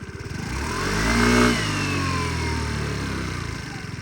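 A 2017 Suzuki Address V50 fuel-injected four-stroke 50cc scooter engine runs steadily close by, its note swelling briefly near the start before settling into an even idle-like drone, with no talk over it.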